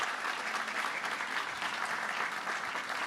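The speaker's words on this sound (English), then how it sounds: "Applause for Aluta Null." An audience at a game arts festival in Berlin claps steadily through the whole moment, a dense, even wash of applause heard from some distance.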